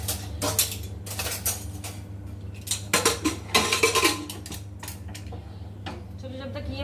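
Kitchen knife work on onions and tomatoes in a home kitchen, a run of close sharp clicks and clatters on a board, some in quick bursts, over a steady low hum with no talk.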